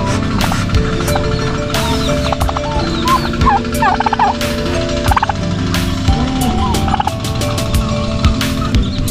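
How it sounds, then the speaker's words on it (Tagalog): Several turkeys gobble repeatedly at a poultry farm, their rapid warbling calls coming in bursts over a busy background of other fowl sounds, loud and close with no talking. "Ito rin po, mayroong tatlong pabo na"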